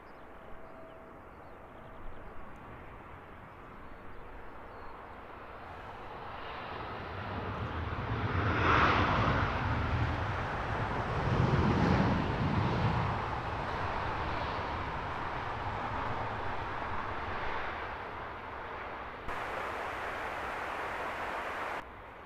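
An airliner departing Heathrow Airport to cross the Atlantic roars past, its engine noise swelling from a distant rumble to a loud peak mid-clip and then slowly fading.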